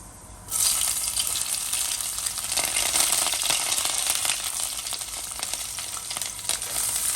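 Fenugreek seeds and then curry ingredients hit hot oil for chicken kurma, setting off a loud, steady, close-up hiss of frying that begins abruptly after a brief quiet moment and holds through to the end with no talking.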